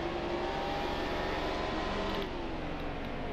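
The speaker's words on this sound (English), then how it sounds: "helicopter outside" A helicopter flying outside produces a steady, loud, droning engine roar that holds evenly for a few seconds and fades slightly toward the end, with no talking over it.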